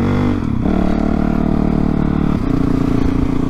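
A 450 motorcycle is ridden along, its engine rumbling loud and close with a throttle change near the start and another shift in pitch later, running continuously without talk.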